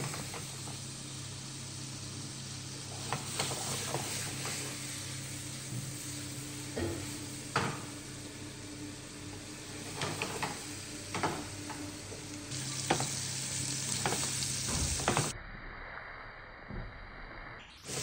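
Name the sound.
Bele fish being sautéed in oil on full heat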